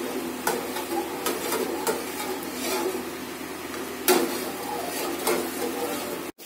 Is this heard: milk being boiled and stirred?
yes